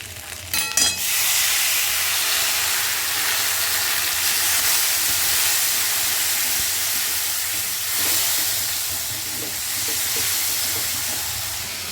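Spice paste with cumin and turmeric powder frying in a pan for chana dal, giving a steady, loud hiss and sizzle that runs the whole time with brief clatter near the start and no talk.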